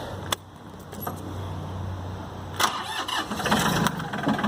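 A Mahindra 3016 Shuttle 4WD tractor's engine is cranked over after a key click and catches, settling into a steady mid-pitched diesel idle close by.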